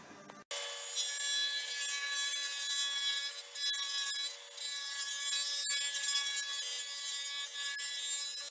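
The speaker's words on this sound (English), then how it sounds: "I put my half-inch dado stack in there, and I have it raised to a cut into that 3/4-inch plywood" A half-inch dado stack on a table saw cuts grooves into 3/4-inch plywood, producing a steady, loud, high-pitched whine with a rough rasping edge after a brief start, continuing for several seconds with no talking.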